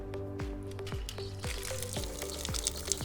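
Water pours steadily from a hose spigot fed by a rainwater harvesting tank into a Home Depot bucket, a continuous close splashing trickle with a faint low hum beneath.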